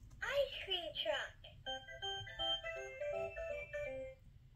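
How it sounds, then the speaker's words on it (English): Ice cream truck jingle: a bright, tinkling electronic melody of clear sustained notes plays near the microphone, after a brief burst of higher sweeping tones at the start. "We love to hear the ice cream truck on a hot summer day."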